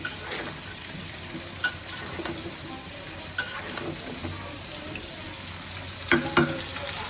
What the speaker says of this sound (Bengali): এখানে আমার মাছগুলো ভাজা হচ্ছে, এক পিঠে আমি উল্টাই দিচ্ছি সুন্দর করে